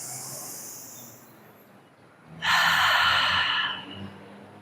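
A deep breath drawn in during a gentle slow-flow yoga practice: one close, airy inhalation lasting just over a second, standing out from a quiet room with no talking.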